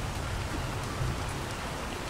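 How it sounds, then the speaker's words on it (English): Steady rainfall in the video game ARK: Survival Evolved, a soft, even hiss of drops with no other sounds. "Okay, and rain. It rains a lot here."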